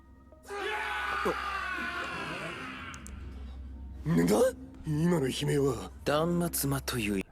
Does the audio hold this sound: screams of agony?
yes